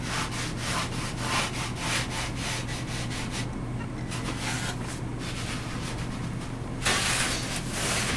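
Hobby knife or small saw cutting a hatch opening into a model cockpit, a steady scraping, sawing rasp in repeated strokes close by, with a brief pause and a brighter burst near the end, no voices.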